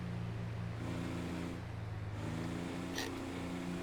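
A first-generation truck in GTA 5 runs with a steady, low engine rumble throughout, holding an even drone with slight shifts in pitch, fairly close and alone without talk.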